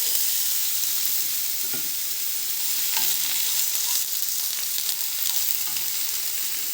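Mushrooms and onions fry in olive oil in a pan, giving a steady, loud, even sizzle that crackles continuously with no voices.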